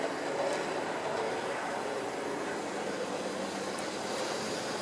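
A steady, continuous rumbling whir of a model train running along its track, fairly close and even in level throughout, with no talking.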